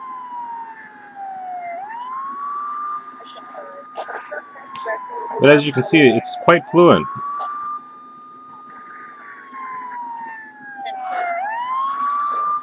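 A police car siren in a driving video game on an HP TouchPad wails continuously, loud and steady, while someone talks briefly over it partway through.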